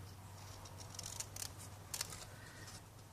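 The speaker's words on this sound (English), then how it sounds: "I really just need to cut the sides of the paper" Scissors snipping the sides of paper for a gift card enclosure, a few quiet, crisp cuts in short clusters over a low steady hum, with no talking.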